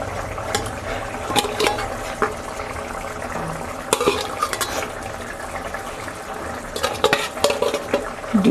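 Duck eggs stirred into a pan of simmering curry, with a bubbling hiss under repeated scraping and clinking of a utensil against the pan, close and continuous.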